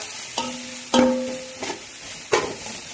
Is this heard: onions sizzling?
yes